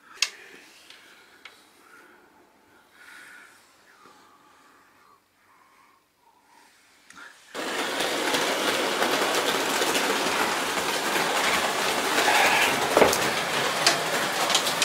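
Märklin H0 model railway train starts up after a quiet stretch with faint clicks, then a loud steady rolling rush and whirring with rattling track noise that keeps going to the end.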